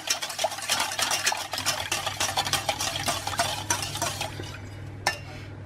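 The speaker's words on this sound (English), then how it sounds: "I'm actually going to use a whisk just to start whisking these three ingredients together." Whisk stirring cream with other muffin ingredients in a bowl, making a continuous, busy scraping and clinking patter close by, with a low steady hum underneath.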